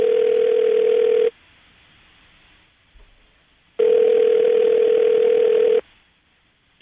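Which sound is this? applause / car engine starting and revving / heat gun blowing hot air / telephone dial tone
telephone dial tone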